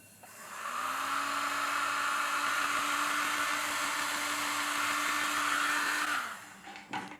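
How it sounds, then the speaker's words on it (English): A heat gun blasts the foot ring of a soft stoneware pot on a potter's wheel, a loud, steady whooshing fan roar that runs for several seconds and then cuts off, followed by a couple of light knocks. "I quickly blasted the foot ring with my heat gun"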